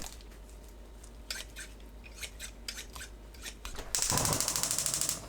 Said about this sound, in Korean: 매생이 300g을 가위로 대충 잘라주세요